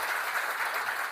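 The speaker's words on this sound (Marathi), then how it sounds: "सगळ्यांसाठी टाळ्या." Applause for everyone at a company felicitation event, a steady wash of clapping from an audience filling the whole moment without pause.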